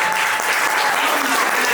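An audience at a school literary showcase applauds the poetry performers, close, loud, continuous clapping across a short stretch.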